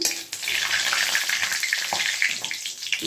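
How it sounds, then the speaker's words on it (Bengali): Bay leaf and cumin seeds fry hard in hot oil as a tempering for a Bengali kohlrabi and potato curry, giving a dense, steady, close sizzle and crackle with no voice over it. "আমি তেজপাতা আর জিরেটা ফোড়ন দিলাম"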